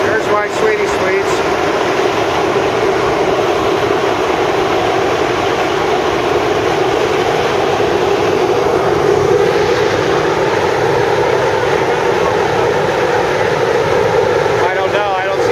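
Geothermal steam venting near a power plant, a loud continuous roaring hiss that stays steady and close for the whole stretch, with no breaks or pauses.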